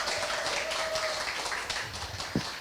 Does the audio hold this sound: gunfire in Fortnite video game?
no